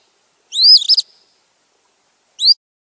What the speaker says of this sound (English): Phoebe, and they like to nest underneath awnings and things like that.